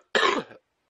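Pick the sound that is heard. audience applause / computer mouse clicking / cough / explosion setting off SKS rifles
cough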